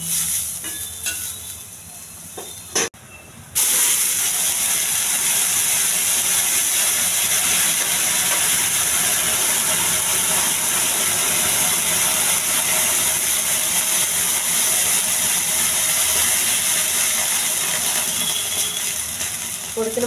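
Curry leaves, onion and green chilies fry in hot oil, a loud dense hiss and sizzle that jumps up after a few quieter seconds with scrapes, then holds steady and close.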